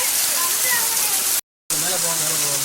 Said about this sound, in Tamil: இந்த அருவியில தான் குளிக்க போறேன்